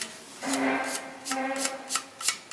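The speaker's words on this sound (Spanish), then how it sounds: "puedo pasar un trozo de lija fuerte," Coarse sandpaper rubbed over dry primer on a scale model, a few short rasping strokes in quick succession, close and moderately quiet with no talking.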